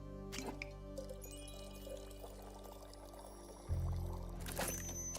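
Liquid poured while mixing a drink in the tavern video game Tavern Talk: a steady, soft pouring trickle with light drips, heard alone over quiet background music.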